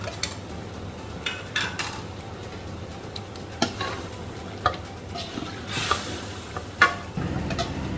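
Potatoes and a ground spice mix fry in oil in a pot while being stirred, a continuous sizzle broken by repeated scrapes and knocks of a utensil against the metal, with no talking.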